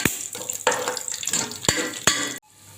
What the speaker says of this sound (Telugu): జీడిపప్పు పల్లీలు ఫ్రై అయినాయి